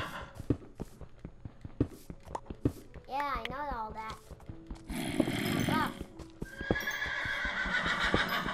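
Minecraft horse neighs and whinnies amid steady clip-clop hooves with a synthetic, game-like quality; a voice chatters faintly in the background.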